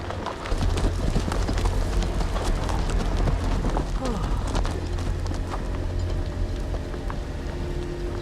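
Horses gallop in Telltale's Game of Thrones video game, a dense, continuous clatter of hooves over rumbling noise, loud and sustained throughout.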